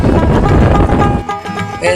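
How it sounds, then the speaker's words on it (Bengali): Strong wind gusts by a choppy river buffet the microphone with a loud, rumbling roar, easing briefly before surging again, as someone speaks over it. "দেখতে পাচ্ছেন প্রচুর বাতাস প্রচুর ঢেউ এখানে"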